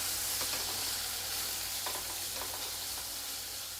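Onions sautéing in a pan until brown for a bottle gourd and moong dal bhaji, giving a steady, close sizzle with a few soft stirring scrapes and no voices.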